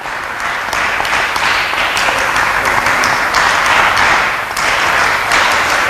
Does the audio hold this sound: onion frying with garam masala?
no